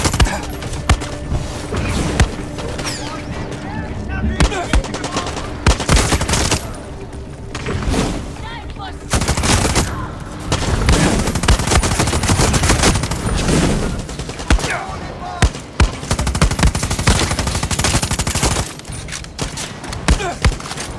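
Rapid gunfire from a fast-reloading weapon in the video game Far Cry 6, loud repeated bursts and volleys with thuds and mechanical clicks throughout, dense and close with little pause.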